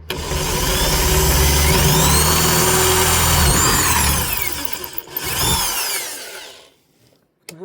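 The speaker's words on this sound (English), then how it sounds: "Let's go with a bigger drill bit." A power drill fitted with a bigger bit drills a hole in a self-built campervan: a loud, close, continuous grinding whine with pitch sweeps as it cuts through, then a brief second burst before winding down to near silence.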